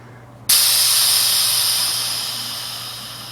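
A sudden loud hiss bursts out as pressure is released from a car's front air shock, holding strong and then tapering slowly as the air escapes, with no talk over it.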